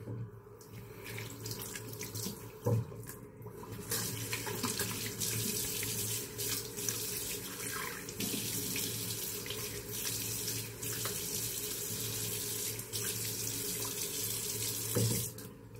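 Tap water runs steadily into a sink as a face is washed after a wet shave, a continuous close splashing flow with small bumps of hands in the stream and no talk.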